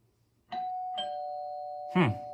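A doorbell rings indoors, a clear electronic chime with a couple of tones sustaining, heard close, followed by a voice speaking over the ringing tone.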